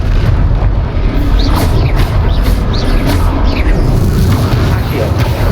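Fiery Confringo spell blasts in Hogwarts Legacy, loud booming bursts over a constant rumbling battle din, with several sharp cracks through the middle of the stretch and speech mixed into the noise.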